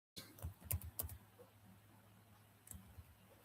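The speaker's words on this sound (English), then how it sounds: "let me just type it" Quick bursts of keystrokes on a computer keyboard, a handful of close, crisp taps clustered at the start and a couple more after a pause, faint and without talk.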